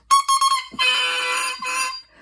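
Double reed being play-tested at a reed repair shop, crowing in a few short bright squawks followed by a longer sustained buzzy tone, close and fairly loud with no talk.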